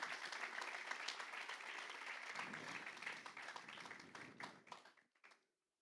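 A church congregation applauds during a sermon, steady crowded clapping filling the room for several seconds before tapering off and stopping abruptly at the end.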